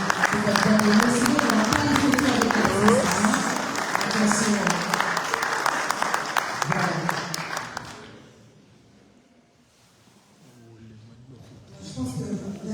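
Audience applause at a press conference in Brussels, a sustained burst of clapping from a crowd with some talk mixed in, fading out after about eight seconds before voices resume.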